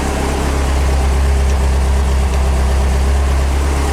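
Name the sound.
engine idling at just over 1,000 rpm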